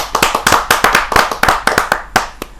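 Sharp, uneven hand claps from a small group, close and loud, a quick burst of clapping with no voices.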